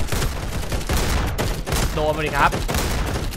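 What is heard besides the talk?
gunfire in a Roblox shooter video game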